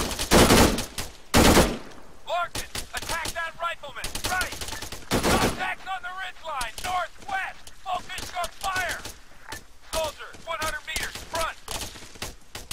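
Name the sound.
gunfire in Arma 3, video game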